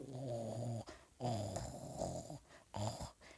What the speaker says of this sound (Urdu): بیچارے بھیڑیے کو پتہ ہی نہیں ہوتا، وہ تو اسی طرح خراٹے لے رہا ہوتا ہے